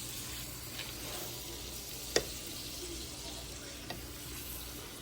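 An Angus sirloin tender steak sizzles steadily in a pan on a stovetop as it is stirred, a close, constant hiss broken by a couple of sharp utensil clicks.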